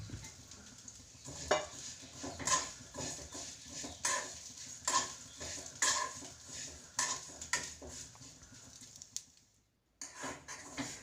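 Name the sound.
roasting vermicelli in ghee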